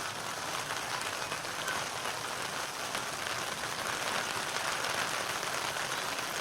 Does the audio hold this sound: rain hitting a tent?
yes